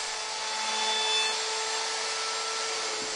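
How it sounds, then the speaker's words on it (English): A router with a 1/4 inch round-over bit shaping the bottom edges of wooden table apron rails, giving a steady, even whirring hiss with a faint tonal whine throughout. "Now routing the bottom edges of my apron rails with a 1/4 inch round over router bit."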